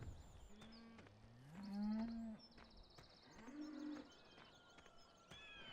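Cows on an old Slovenian farm map in a farming game give several long, low moos one after another, fairly close and distinct, with faint bird chirps in the background.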